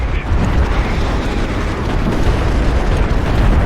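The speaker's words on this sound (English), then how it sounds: "look at the fire from the siege cruisers. It just blankets an area with some nice explosions for you" Siege cruiser fire in the real-time strategy game Deserts of Kharak blankets an area with continuous loud, rumbling explosions, a dense unbroken roar of overlapping booms.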